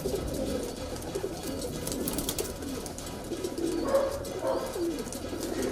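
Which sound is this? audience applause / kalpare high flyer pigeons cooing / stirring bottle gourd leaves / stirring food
kalpare high flyer pigeons cooing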